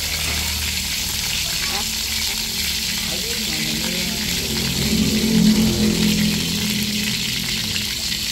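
Continuous sizzling and crackling of rat meat frying in a pan, a close, steady hiss with faint clinks and background voices.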